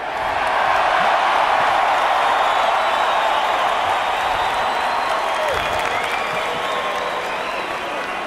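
A large UFC arena crowd applauds loudly and steadily after a fight, a dense wall of clapping and cheering that holds for the whole stretch with no gaps.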